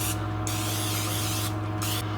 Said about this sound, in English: I got some non-stick cooking spray. I'm going to spray down one side of these.